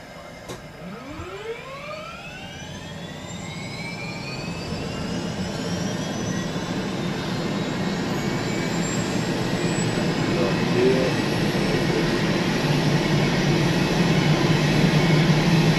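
Turbine of engine 2 on an Airbus H145 helicopter spinning up, a rising whine that sweeps upward over several seconds while a steady roar builds and grows louder beneath it, with no talk.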